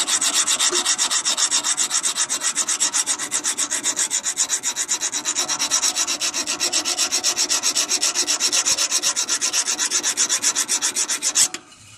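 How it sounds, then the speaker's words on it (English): A hand file works a nick in the drive keyway of a Jacobsen Imperial snowblower wheel, a close, regular back-and-forth rasping of even strokes for about eleven seconds before stopping, with no voices. "I basically took this file and just kind of filed it down"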